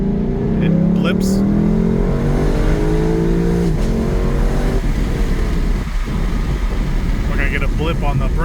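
A Lexus LC500 under hard braking in Sport Plus mode blips its engine on the downshift, a short rising rev over a loud, steady engine drone from inside the car, while someone talks over it.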